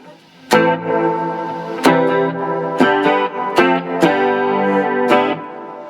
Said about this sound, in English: I want to go to the spring reverb.